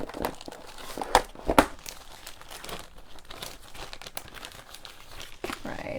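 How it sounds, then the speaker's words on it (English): Cardboard boxes shuffled and handled up close, a continuous rustle of crinkling, scraping cardboard with a couple of sharper knocks early on. "I'm shuffling the boxes."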